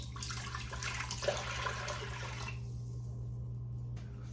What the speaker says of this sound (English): I am putting the liquid in.